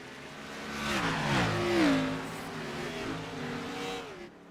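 Race cars running at the Brickyard, several engines roaring as they pass close by, with a climb and fall as they go past and a brief tire squeal, loud and continuous.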